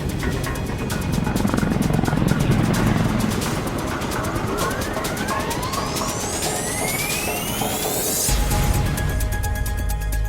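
Steady helicopter rotor chop with engine whine and rising, sweeping tones, loud and continuous before cutting to a low rumble.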